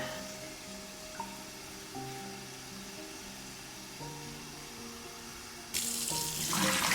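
Tap water runs to rinse sprouts in a jar, starting suddenly near the end as a close, loud rushing pour after a quieter stretch with faint tones in the background.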